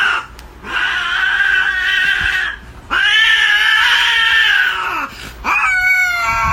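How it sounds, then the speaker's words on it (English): A cat yowls and caterwauls loudly and close up during mating, in three long, wavering wails with short pauses between them, and no talking over it. "The sounds of kitty love making."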